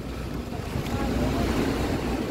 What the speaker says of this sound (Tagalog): Lakas man ang alon.